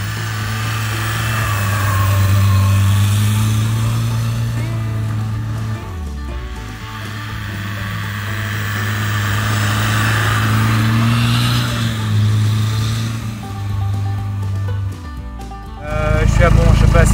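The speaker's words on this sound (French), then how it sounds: "Deuxième essai, le C25 patine dans tous les sens." A Citroën C25 van revs hard while its wheels spin uphill, the engine droning and rising and falling for long stretches before a sudden louder surge at the end.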